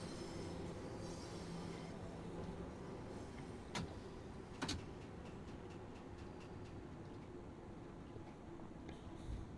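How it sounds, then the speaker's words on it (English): London Tube train pulling into Piccadilly Circus Station in Train Sim World 2, a steady low rolling rumble of carriages with a couple of sharp clanks and faint wheel squeal, no talk. "there we drive into Piccadilly Circus Station"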